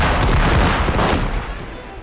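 A dense, loud crackling burst of firecrackers in the video game Diwali Simulator, booming and rattling continuously for a couple of seconds before tapering slightly.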